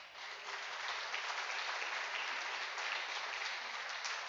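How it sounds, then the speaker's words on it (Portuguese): A church congregation claps together at a worship service, a dense, even wash of many hands heard from a moderate distance and sustained steadily for about four seconds. "Quem crê nisso, aplauda o nome do Senhor Jesus."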